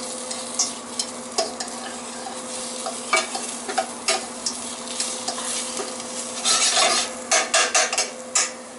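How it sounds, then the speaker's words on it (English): Onions sizzle in olive oil in a pan, with repeated scraping and rubbing strokes as they are stirred, the stirring growing busier toward the end. "I'm trying to get these onions chooching, kind of reduce them down a little bit."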